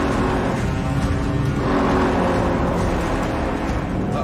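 A Datsun car drives hard in a race against a Bentley, its engine giving a steady, loud, continuous drone throughout with no break.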